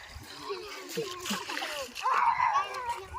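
Water splashes and sloshes as a person is bathed in the Banas river, with repeated close splashes under lively voices of people and children talking throughout.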